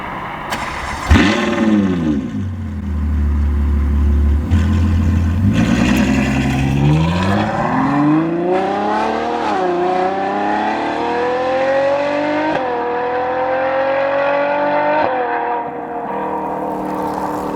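A Ferrari FF engine starts with a burst, then revs up repeatedly, pitch climbing and dropping through several loud throttle blips, close by with no talk.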